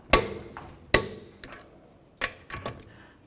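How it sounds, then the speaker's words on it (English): Torque wrench tightening the wheel nuts on a 2010–2017 Chevy Equinox, sitting on its own weight: a few sharp metallic clicks and knocks, two loud ones early and softer ones later, close up with no talking. "With the vehicle under its own weight, I'm going to use a torque wrench and tighten these up."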